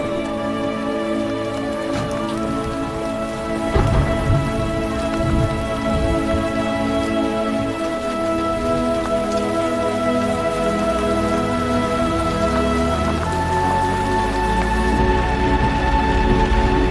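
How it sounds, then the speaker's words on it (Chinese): Rain falls in a film scene, a continuous patter of drops throughout, with sustained musical tones playing alongside it. "下雨了"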